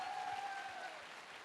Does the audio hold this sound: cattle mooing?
no